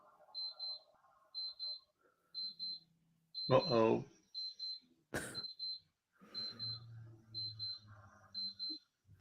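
A wristwatch alarm chirps in repeated quick double beeps, small and high, cycling steadily across the whole stretch while people talk and a sharp knock cuts in partway.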